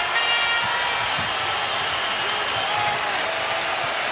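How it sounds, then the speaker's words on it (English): Basketball arena crowd at an NBA game, Houston Rockets at Philadelphia 76ers, a dense, steady roar of cheering and applause filling the whole stretch without a break. "The crowd wants Iverson to score 60."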